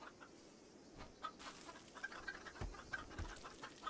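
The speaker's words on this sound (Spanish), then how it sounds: "Tengo dos gallos, ¿eh?" Two roosters in the RimWorld video game cluck in short, faint calls scattered over a quiet game background, with a few soft clicks in between.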